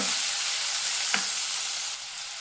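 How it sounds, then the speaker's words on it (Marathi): Finely chopped onion going into hot oil with cumin in a kadai, giving a steady close sizzle of frying with a brief stirring scrape midway, no voices. "जिरं आहे ते छान तळतळलेलं आहे तर कांदा घालून घ्यायचा आहे कांदा एकदम बारीक केलेला आहे"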